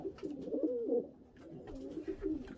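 Pigeons coo steadily from a large shed aviary lined with plastic sheeting, a soft, continuous burbling that swells and fades across the whole stretch, with no talking over it.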